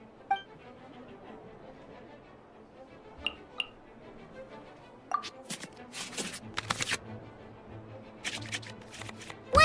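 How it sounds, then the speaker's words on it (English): In the Genshin Impact card game, cards are shuffled back into the draw pile with a quiet rustle early on. Sharper riffling and flicking bursts cluster in the second half, close and crisp, with no talk over them. "we can select any number of cards in our hand to shuffle back into the draw pile"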